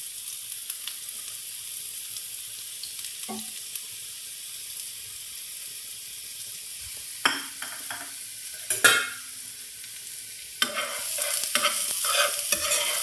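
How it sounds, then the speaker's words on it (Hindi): Chopped onions fry in a few spoonfuls of oil, a soft continuous sizzle that flares into louder crackling bursts and scrapes as a spoon stirs them. "अब हम इसमें एडिशन करेंगे चॉप किए हुए ऑनियंस।"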